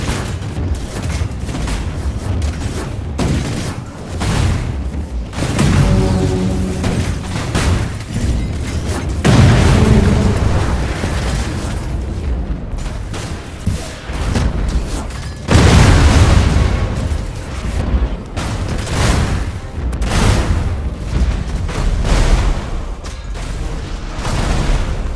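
Repeated loud spaceship explosions from a Battlefleet Gothic Armada 2 cutscene, deep booming blasts and bursts rolling over a dense rumbling battle soundscape for the whole stretch, with no talk.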